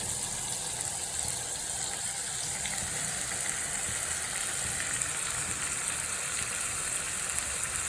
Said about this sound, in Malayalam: അപ്പോൾ നമ്മുടെ കൊഞ്ച് ഫ്രൈ ഇവിടെ റെഡിയായി വരുന്നുണ്ട്.